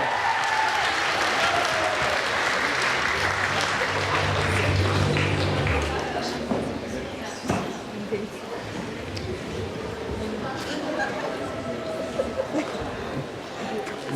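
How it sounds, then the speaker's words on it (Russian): A hall audience at a 2019 student spring festival of a Bashkir State University institute breaks into loud, dense applause. It runs the whole time, strongest early, then eases slightly while staying busy and continuous. "Бурные аплодисменты!"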